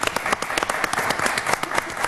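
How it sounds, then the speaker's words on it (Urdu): A studio audience bursts into sustained applause for Gullu Butt, thick continuous clapping with sharp individual claps standing out, loud and steady throughout. "گلو بٹ صاحب کے لیے تالیاں"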